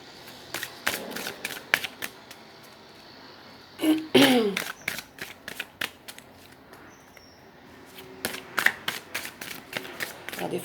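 Playing cards are shuffled and drawn at close range in a series of quick crisp riffles and flicks, with a brief burst of handling and rustling midway.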